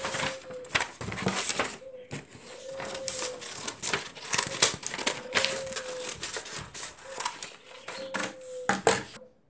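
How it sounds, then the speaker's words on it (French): Scissors cutting a sheet of paper in half during a paper flower-vase craft, heard as a series of close, crisp snips and rustling paper crinkles in uneven bursts. "Vous coupez maintenant en deux la feuille."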